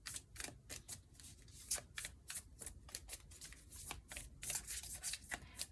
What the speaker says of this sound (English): I love this deck so much. I really do, and it's so beautiful. But it's so difficult to shuffle.